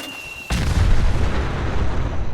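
An explosion in Fallout 4 goes off suddenly after a quiet moment with a faint tone, bursting into a loud, deep boom. The boom leaves a sustained rumbling roar that slowly settles. No talking.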